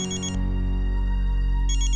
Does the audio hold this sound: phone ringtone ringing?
yes